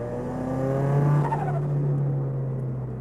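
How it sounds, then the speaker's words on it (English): A turbocharged Toyota GT86 fitted with nearly the full HKS parts catalogue revs hard, a loud, steady engine roar rising and falling in pitch over three seconds with a faint tyre squeal, no voices. "This is a turbocharged GT86."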